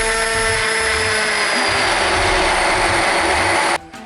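A hand blender whirs through a chicken curry sauce with a loud, steady motor whine and a churning rumble underneath, running continuously before stopping abruptly near the end.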